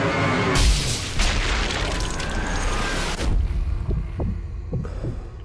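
A loud, deep boom from a sniper rifle shot in the video game Sniper Elite V2, followed by a rumbling tail, then softer thuds and a lingering hum.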